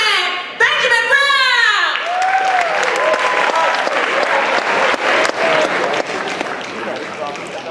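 An audience breaks into loud, continuous applause with some cheering as a spoken word performer is welcomed onstage, following a brief burst of a host's voice, the clapping dense and sustained throughout.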